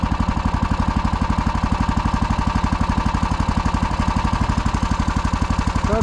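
The engine of an Uragan runs after being started, giving a loud, steady, rapid chugging throb that stays even throughout.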